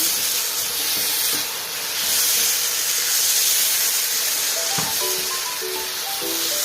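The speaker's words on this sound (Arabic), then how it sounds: "هقلب الرز تقليبه كده مع البصل" Rice is stirred with onions in a hot pot while cooking Palestinian mujaddara. A steady, close sizzling hiss runs throughout, and a few scraping stir strokes come near the end.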